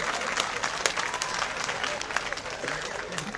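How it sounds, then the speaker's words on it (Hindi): A large audience at a comedy show claps loudly on request, a thick continuous roar of applause with scattered voices mixed in. "जोरदार तालियां बजाइए"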